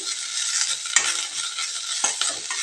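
Mint leaves fry on a medium flame for chutney, giving a steady close hiss of sizzling oil broken by a few sharp scrapes of a spoon stirring the pan.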